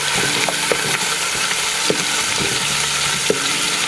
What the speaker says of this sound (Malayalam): നമുക്കൊന്ന് ചെറുതായിട്ട് ഇളക്കി കൊടുക്കണം